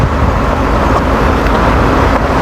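Metro Jabar Trans bus-rapid-transit bus at Leuwi Panjang terminal in Bandung on the Leuwipanjang–Soreang route: a steady, loud diesel rumble with broadband traffic noise, continuous and close, with no talk.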